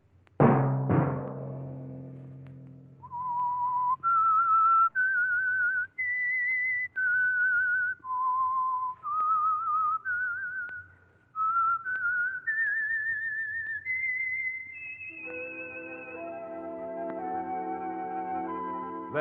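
A clear, melodic whistled tune with distinct held notes and small pitch slides, following a brief musical intro and ending as soft instruments swell beneath.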